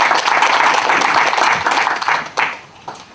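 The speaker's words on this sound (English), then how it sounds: "Round of applause for Irfan Chisholm." Audience at an interfaith cultural conference applauding a speaker, a close, dense burst of clapping that thins into a few scattered claps.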